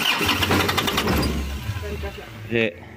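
A car engine fitted with a new turbo and cleaned cartridge cranks with a rapid rhythmic chugging, catches briefly, then sputters with a short rev near the end, while someone talks nearby.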